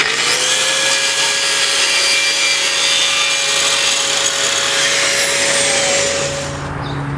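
A power saw cuts an oak stair tread in a steady, loud, continuous whine with a sustained tone, easing off slightly at the very end.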